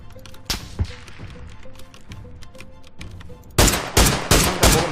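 Automatic M16 rifle fire in the PUBG battle royale game: bursts of gunshots crackle at a distance over the first few seconds, then several loud, close sharp shots punch in near the end, with no talking.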